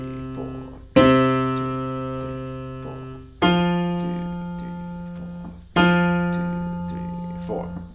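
A jazz blues turnaround from a song played as three sustained plucked notes, each struck sharply then ringing and decaying, with faint background sounds between them.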